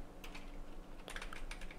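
Someone types a file name on a computer keyboard, tapping a short, uneven run of quiet clicks with a brief pause midway, close to the microphone in an otherwise silent room.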